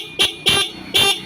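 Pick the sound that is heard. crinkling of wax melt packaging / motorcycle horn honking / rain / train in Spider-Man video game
motorcycle horn honking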